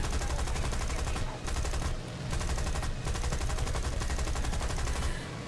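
Dense gunfire in War Thunder, rapid machine-gun bursts and shots pouring from everywhere in a loud, nearly continuous barrage with only brief dips between volleys.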